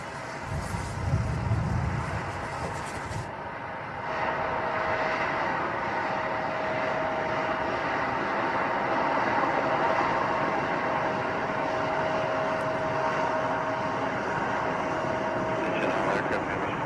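Boeing 777-9X airliner engines run on the ground at Paine Field in Everett, a steady, broad turbine roar with a faint high whine, heard from a distance and holding constant throughout.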